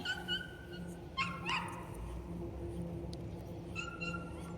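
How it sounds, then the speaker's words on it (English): A dog named Lovey barks and yips from a backyard pen on a rural property, short sharp calls repeating at a moderate distance over low steady background noise. "Lovey's barking in the background."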